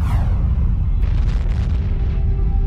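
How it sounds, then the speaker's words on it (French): A gamma-ray burst from an exploding star is rendered as a deep, loud explosion effect, a sustained booming rumble with a crackling blast that rises partway through, heard alone without talk. "La plus grosse explosion qui ait secoué l'univers depuis le Big Bang."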